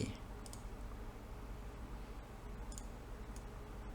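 Computer mouse clicks during 3D model assembly software work, a handful of small sharp taps scattered over a steady background hiss, close but faint.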